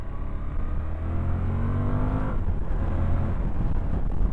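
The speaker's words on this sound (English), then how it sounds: "Just cog down and accelerate." A 2023 Suzuki V-Strom 1050DE motorcycle drops a gear and pulls hard, its engine note rising and falling under heavy wind rush, close and loud throughout.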